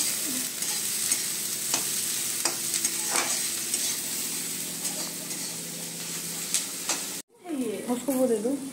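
Food being stirred and fried in a pan while making Maggi noodles: a steady sizzling hiss with scraping stirs throughout, close up, ending abruptly near the end as voices cut in.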